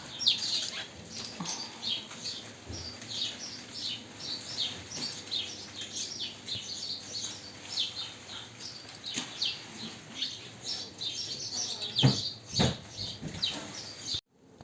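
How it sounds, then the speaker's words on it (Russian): Many small birds chirp and twitter continuously among boxes at a shop in Niš, Serbia, a busy overlapping chorus of high tweets heard from moderately close, with a louder thump near the end. "Такое чириканье раздается."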